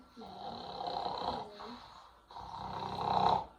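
Snoring in two long, rumbling breaths, the second louder and ending in a nasal rattle, close and fairly loud.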